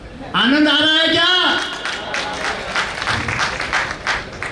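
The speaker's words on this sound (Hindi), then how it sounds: "तालियों की जोरदार" Audience clapping at a Holi festival celebration breaks out right after a loud drawn-out voice call, forming a steady wash of many hands that continues to the end.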